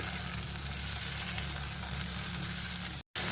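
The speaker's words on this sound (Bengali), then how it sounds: "এবার আমি আদার পেস্টটা দিয়ে দেবো দিয়ে এর সঙ্গে কিছুক্ষণ ভেজে নেব" Ginger paste frying in hot oil with garlic and onion for a fish curry gives a steady, close, loud sizzle that runs unbroken apart from a brief cut near the end, with no talk.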